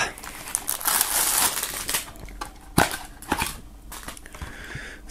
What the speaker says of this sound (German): Das Siegel brechen